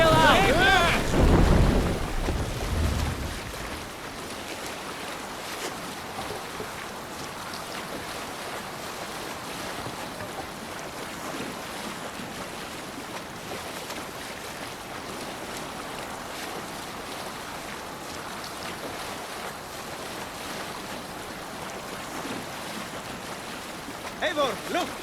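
A Viking longship sails across open sea in Assassin's Creed Valhalla, with steady wash of waves and wind rushing past; a louder burst opens before settling into a constant surging roar.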